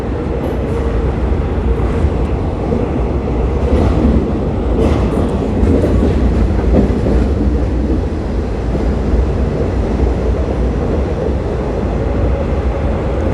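A train rolls from Don Mueang toward Krung Thep Aphiwat Central station in Bangkok, with a loud, steady interior rumble and faint rail clatter throughout, and no talking.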